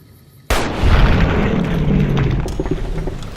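A single loud gunshot headshot in the video game Fallout: New Vegas cracks out abruptly after a quiet moment, followed by a long, rumbling echo that slowly fades.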